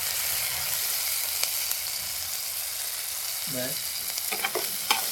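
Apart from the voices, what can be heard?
onion garlic masala frying and being stirred in pan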